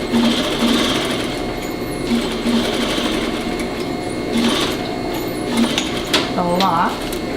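A sewing machine stitches a vest in a steady run of rapid needle strokes with brief pauses, close and fairly loud, while a voice talks over it.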